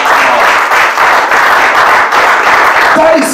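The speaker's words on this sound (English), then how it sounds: "Clap over them." A church congregation claps together during a sermon, a steady dense wash of hand claps sustained throughout before fading near the end.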